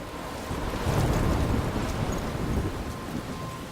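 Roaring storm in the video game Life is Strange, with heavy wind and driving rain in a dense wash and low rumbling gusts swelling near one second, steady and loud without speech.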